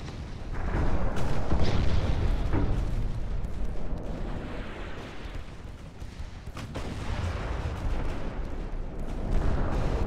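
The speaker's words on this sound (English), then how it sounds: "My 8-inch guns are doing pretty good dealing with him." Heavy 8-inch naval guns firing in the Ultimate Admiral: Dreadnoughts warship game, a continuous rumbling barrage of booming blasts and distant explosions that stays loud throughout.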